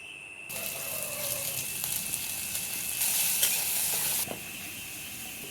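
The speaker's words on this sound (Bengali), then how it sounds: "এই যে কড়াই পেঁয়াজ লঙ্কা দিয়ে ভাজা" Onions and chillies fry in a kadai in a hostel kitchen, giving a steady, close sizzle and hiss that swells briefly midway, heard alone without talk.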